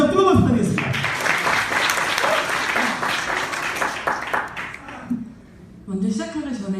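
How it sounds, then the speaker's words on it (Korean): Audience applause in a church worship service, a full room clapping loudly and steadily for several seconds before fading, then a person speaks at the end. "정선양이 다시 한번 뜨거운 박수 부탁드리겠습니다."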